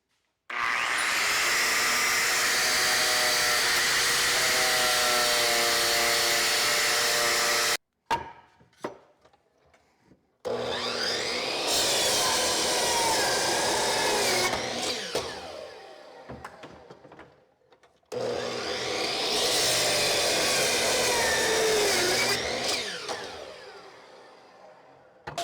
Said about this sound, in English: So this is a 2 horsepower mill drill and it is 120 volts.